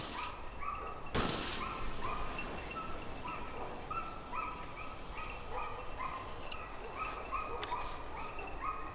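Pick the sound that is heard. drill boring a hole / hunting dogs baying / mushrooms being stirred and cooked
hunting dogs baying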